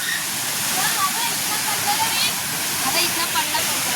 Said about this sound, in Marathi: धबधब्यावरती आलेलो आहोत आपण